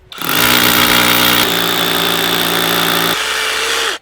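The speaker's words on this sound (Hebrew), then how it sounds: "הכנסתי את הסוללה לפטישון נטען, ועכשיו תראה איך אנחנו קודחים בקיר." A cordless rotary hammer drills into a wall with a loud, steady motorized roar and hammering buzz lasting about four seconds, its tone shifting slightly partway through before cutting off abruptly.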